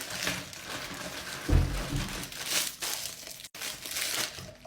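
Plastic packaging crinkling and rustling up close as a fidget toy parcel is opened, with continuous crackling and a brief louder crumple in the middle.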